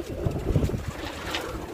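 Pigeons coo softly in a loft where the birds sit resting, low murmuring calls repeating close by over a steady airy background.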